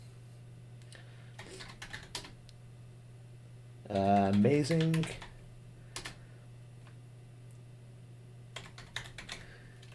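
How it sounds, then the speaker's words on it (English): Clicky typing on a computer keyboard at a streaming setup, short bursts of keystrokes scattered through the clip around a brief spoken remark, with a low steady hum underneath. "we're going to type in words we want it to pick up on."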